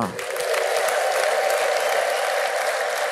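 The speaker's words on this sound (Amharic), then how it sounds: "እስቲ ልልታ ጭብጨባ" Church congregation bursts into sustained applause with a high, wavering ululation carried above the clapping, loud and continuous from start to finish.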